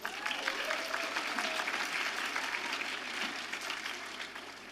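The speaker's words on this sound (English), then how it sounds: "Give yourself a round of applause" Audience applause fills a live charity dance show, a dense, steady wash of clapping from a large crowd that holds strong throughout and tapers slightly at the end.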